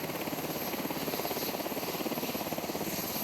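A helicopter's rotor thumps in a fast, steady rhythm with a constant engine whine, heard clearly without any talk, during rescue flights after Hurricane Dorian in the Bahamas.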